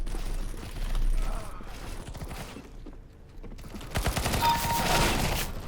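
Rapid gunfire bursts from the shooter game CS:GO, rattling in dense volleys that swell around the start and again in the last two seconds, with a brief lull in the middle and game clatter throughout.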